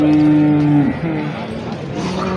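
A cow at a weekly cattle market in Nashik gives a loud, close moo that trails off after about a second, with market noise continuing underneath.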